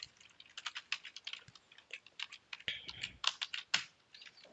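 Rapid typing of Java code on a computer keyboard, a dense run of close, crisp key clicks in an uneven rhythm with occasional heavier keystrokes, no voices.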